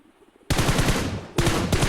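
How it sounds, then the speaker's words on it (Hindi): Gunfire in the mobile battle royale game BGMI: after a quiet moment, two loud, close bursts of rapid automatic fire follow one another with a brief gap between. "जैसे वो आगे तरफ निकला मैंने फायर कर दिया था"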